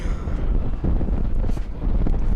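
Gusting wind buffets the microphone on a windy night at a high school football game in Spokane, a continuous low rumble and roar with no voices.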